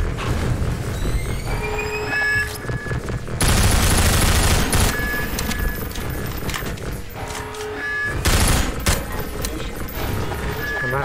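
Gunfire in the Half-Life 2 VR mod, Episode Two: heavy shots and bursts punctuated by pauses, loud and close, with metallic ringing tones and a faint voice in places.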